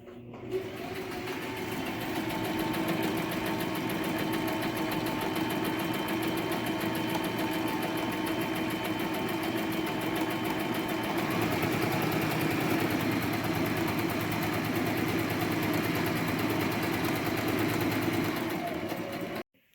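Sewing machine stitching a fabric hospital mask cover, a fast, steady mechanical whir running close and continuous for nearly twenty seconds before stopping abruptly at the end, with no talking.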